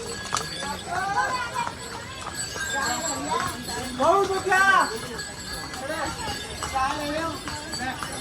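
Horse hooves clip-clop in a steady rhythm beneath people talking on the rainy Kedarnath pilgrimage route, with a brief louder stretch midway.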